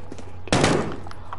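Gunfire aimed at the player in the video game Call of Duty Warzone: a short, loud burst of rapid shots that starts abruptly after a brief quiet moment, then a second burst at the very end.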